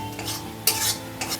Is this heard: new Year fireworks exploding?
no